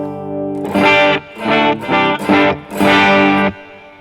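Electric guitar played through a reverb preset on a Boss GX-10, several strummed chords ringing out with a reverb tail, loud and close, no talking.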